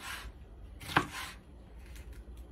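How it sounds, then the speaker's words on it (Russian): A kitchen knife chops food into small cubes on a cutting board while plov is being prepared, a few crisp, close knocks with one sharp strike standing out over quiet background. "Перевернул и порезал."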